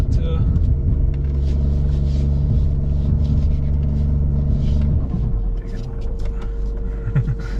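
A Ford Bronco Sport stuck off-road rocks its wheels back and forth, giving a loud, steady engine drone with low rumble that drops to a quieter idle after about five seconds.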